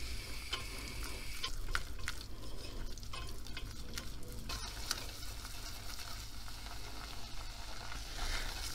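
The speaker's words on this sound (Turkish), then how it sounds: "Dolu dolu 2 yemek kaşığı un ilave ettim. Şöyle hafif un kokusu çıkana kadar kavuralım." Flour roasting in melted butter in a pot for a béchamel sauce, a steady close sizzle with scraping stir strokes running throughout, no voices.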